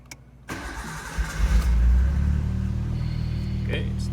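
A Nissan RB26DETT engine with a custom cam trigger setup cranks briefly, catches and settles into a loud, steady idle rumble, heard up close with no talking.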